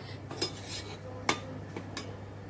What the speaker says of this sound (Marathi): तुपामध्ये असा रवा भाजत भाजायला टाकलेला आहे